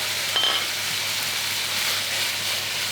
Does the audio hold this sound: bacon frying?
yes